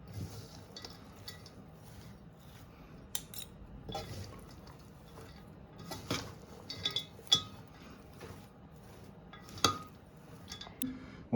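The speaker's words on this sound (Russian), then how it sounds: "Теперь это тщательно перемешиваем." Korean carrot salad being mixed with sugar in a bowl, giving soft irregular clinks, scrapes and moist rustles at close range, with a few sharper utensil taps against the bowl.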